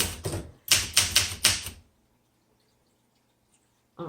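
A 1966 Olympia SM9 vintage manual typewriter clatters through two bursts of close key strikes, a few taps then a quicker run of five, followed by near silence and one final clack.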